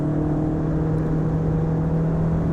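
An Ariel Atom on a race track under steady hard acceleration, its engine giving a loud, close, sustained whirring drone with a constant pitch throughout.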